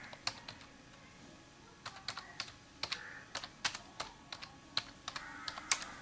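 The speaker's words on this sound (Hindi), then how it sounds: "तो दोस्तों मैं आपको इसकी टाइपिंग दिखा देता हूँ" Keys clatter on a compact Dell budget keyboard, irregular bursts of crisp clicks and taps typed into a messaging app, close and fairly quiet against a soft background.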